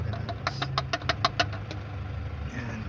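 A Nissan Urvan van engine turns over and catches, with a quick series of cranking knocks settling into a steady low idle, heard up close.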